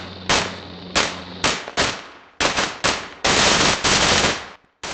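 Several bursts of rapid automatic gunfire, loud and close, separated by short pauses, with a longer sustained burst near the end.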